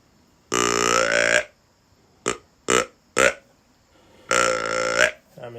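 Close, loud grunts from a Timber Ghost buck grunter deer call, in the trophy or mature buck setting: two long guttural bursts with three short grunts between them, separated by silence.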